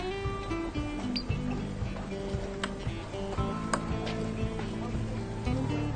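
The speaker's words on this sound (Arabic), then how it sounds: "اصوات اطفال من بعيد كده." Sound effect of children's voices heard from a distance, a busy, steady murmur of young voices with occasional sharp clicks and ticks, moderately loud throughout.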